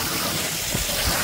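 Water flows from a culvert, held back by a small 6-inch dam, into a feeder pipe running to a water wheel, making a close, loud and steady gushing rush with no voices over it.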